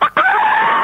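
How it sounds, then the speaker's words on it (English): Chicken crowing and clucking comes over a live phone call on a pirate radio show, a short, loud, nasal squawk with a brief break before a sustained cry. "It's the chickens again, man."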